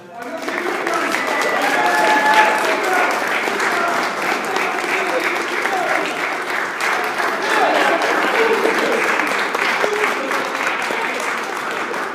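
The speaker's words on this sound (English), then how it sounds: "please, a round of applause. applause for our moderators" A crowd at a city council debate on a university campus gives the moderators a round of applause, sustained and fairly close, with some voices mixed into the clapping.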